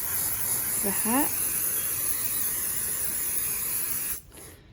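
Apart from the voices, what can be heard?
spray adhesive can spraying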